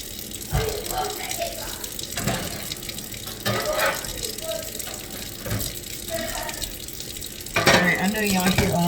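Tap water running into a kitchen sink while raw chicken thighs are cleaned, a continuous splashing hiss with clattering handling noises, and someone talking over it.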